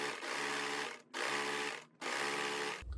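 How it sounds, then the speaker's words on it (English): A sewing machine stitches a band down the front of a cardigan in three steady, loud runs separated by brief pauses, with no talking. "Now as you sew down the front, don't stretch it, don't add any tension."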